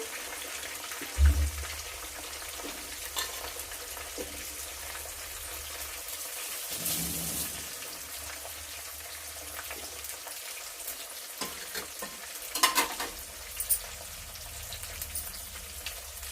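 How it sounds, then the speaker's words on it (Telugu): Bitter gourd pieces frying in hot oil in a pan for a pickle, a soft steady crackle under occasional clinks and scrapes, with no talking. "ఎంతవరకు వేయించాలంటే కొంచెం ఈ ముక్కలు మెత్తబడేంత వరకు వేయిస్తే సరిపడదు"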